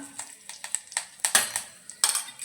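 Cumin seeds and curry leaves spit and crackle in hot oil, giving irregular sharp pops and bursts close by, mixed with a few light metallic clinks of a utensil against the pan.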